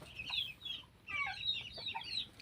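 Chickens cluck in short, quiet bursts over a low background hum, a few birds calling back and forth at a moderate distance.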